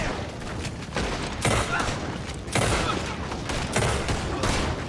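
Rapid bursts of gunfire in Red Dead Redemption 2, dense volleys of overlapping shots in three or four loud waves over about five seconds, with a shout of talk mixed in.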